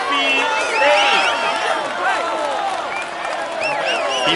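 Loud crowd applause and cheering for a stage winner on the podium in a Tour de France cycling video game, a dense, continuous wash of clapping with whistles and shouts.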